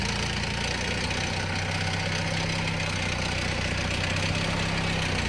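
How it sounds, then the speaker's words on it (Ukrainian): A 2001 Atlas Copco compressor with a Deutz diesel engine idling steadily nearby, a constant loud rumbling drone with a faint rhythmic knock and no pauses. "компресор Atlas Copco SAS 96 2001 року, 3000 мотогодин напрацювання"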